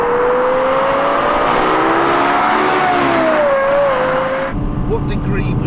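Lexus LFA supercar accelerating hard: a loud, close, high-pitched engine scream that rises steadily through the revs for about four seconds, then cuts off abruptly into lower road and wind noise.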